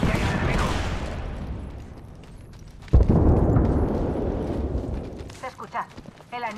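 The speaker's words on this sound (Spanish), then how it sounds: "Lanzando bomba de racimo." Cluster bomb blasts in Apex Legends, a rolling series of loud explosive booms with a sharp renewed burst midway, followed by scattered impacts as a voice speaks over the game.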